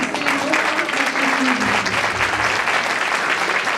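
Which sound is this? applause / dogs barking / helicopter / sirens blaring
applause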